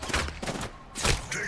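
Rapid gunfire in the shooter game Apex Legends comes in several close, punchy bursts separated by short gaps, with one heavy volley near the end.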